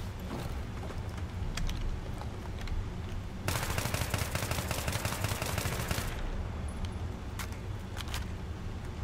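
AEK-971 assault rifle fire in Battlefield 3: scattered single shots at first, then a sustained rapid automatic burst of about two and a half seconds, followed by a few more isolated cracks, all close and sharp.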